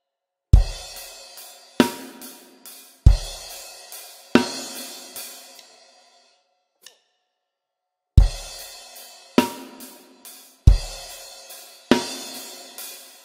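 Drum kit playing the final verse bar of a song, with strong crash-cymbal hits ringing out in a steady pattern, a short gap of near silence in the middle, then the pattern returning, close and loud with no talking.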